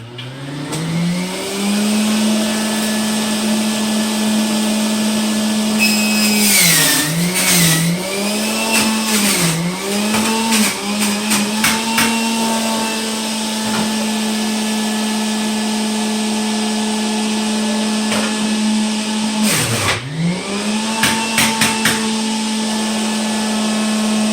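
A juicer loudly grinds lemon and ginger, running steadily for about 24 seconds with a droning motor hum that dips and strains under load as pieces are pushed through, and no talking.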